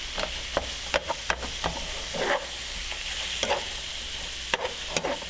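Cheesesteak meat sizzles steadily on a hot griddle while a metal spatula scrapes and chops across it in quick, irregular strokes, the clanks sharp and close over the constant frying hiss.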